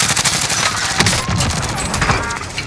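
Dense gunfire from Call of Duty Modern Warfare (2019): rapid overlapping automatic bursts and single shots crackle continuously for a few seconds, loud and close with distant reports behind.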